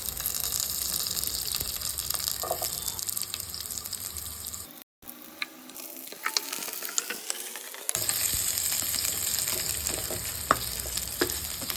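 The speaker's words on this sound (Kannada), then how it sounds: "ಒಂದೇ ಒಂದು ಮೀಡಿಯಮ್ ಸೈಜ್ ಈರುಳ್ಳಿ ಹಾಕ್ಕೊಂಡು ಫ್ರೈ ಮಾಡ್ಕೋಬೇಕು." Sliced green chillies and a medium onion sizzle and fry in hot oil for a mushroom curry, a steady close crackle with stirring and a brief dropout midway, no voices.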